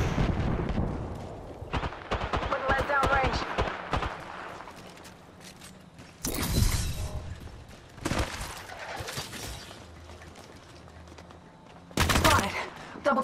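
Repeated gunfire bursts in Apex Legends, loud and close, with rapid automatic volleys and sharp crashes recurring in clusters over a steady game background.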